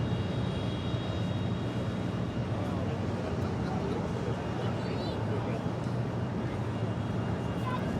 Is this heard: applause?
no